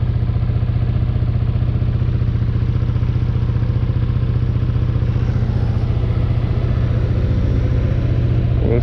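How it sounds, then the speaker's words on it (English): A 1979 Honda CX500 motorcycle engine idles steadily and close by, a constant low mechanical rumble with light clatter running through the whole stretch, no voices. "Make sure my bike don't shut off."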